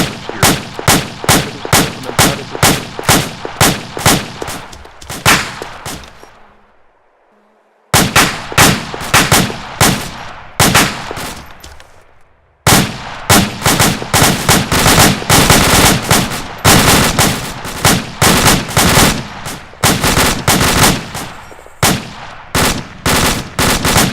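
Squad gunfire on a range: long strings of loud, rapid rifle and machine-gun shots fired close by in rhythmic bursts, broken by two brief pauses before the firing picks up again.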